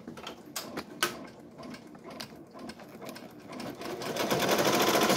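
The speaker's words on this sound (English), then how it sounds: "It's just embroidering the borders of the flowers." An embroidery machine stitches flower borders onto a T-shirt, a rapid mechanical chattering with clicking, ratchet-like beats that grows louder and denser toward the end, heard close up with no talking.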